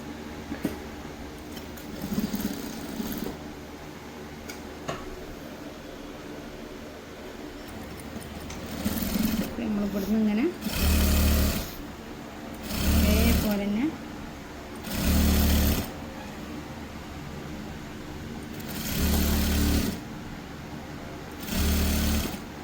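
Sewing machine stitching a shirt being altered to a smaller size, running in several loud bursts of a few seconds each between pauses, with a person talking over the quieter stretches.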